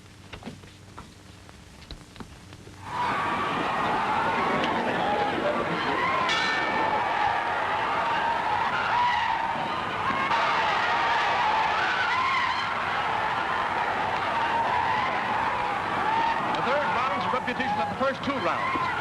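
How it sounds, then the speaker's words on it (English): A car roars to life and tears away with skidding tires, bursting in loudly after a few quiet seconds and staying as a continuous engine and tire roar to the end. "Get downstairs and get that car started and keep it running."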